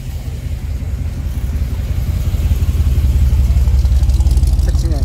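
A car from the 1940s drives past at the Hershey swap meet, its engine rumble rising steadily louder as it nears. The sound is close and continuous, with no talk over it.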